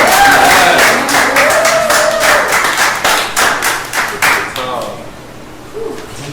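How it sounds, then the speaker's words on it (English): A room of people clapping for a guest at a fundraiser and art show, dense at first and then thinning to scattered claps that fade out, with voices talking over it throughout. "round of applause for Vera"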